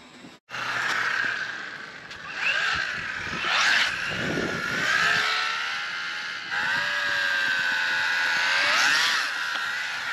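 A Hyper-Go 14301 budget RC car drives on a 2S battery, its electric motor giving a steady high whine that rises and falls in pitch as it speeds up and slows, with wind noise over the microphone.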